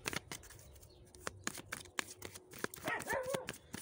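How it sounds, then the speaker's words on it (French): Tarot cards being shuffled and drawn by hand, with a quick run of crisp card riffles and snaps close to the listener, ending in a short soft flutter. "je vais tirer une carte ici"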